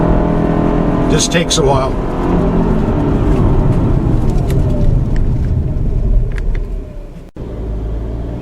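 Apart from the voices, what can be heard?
2014 Subaru Outback 2.5i CVT accelerating from a stop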